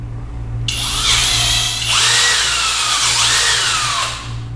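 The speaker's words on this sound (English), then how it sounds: "pilot hole is drilled. Now I'm gonna get the second hole. It's a 3/16." A power drill bores a 3/16 hole through a thick-walled aftermarket handlebar on a KTM 390 Adventure, a loud steady high-pitched whine that dips in pitch midway as the bit bites, held for about four seconds.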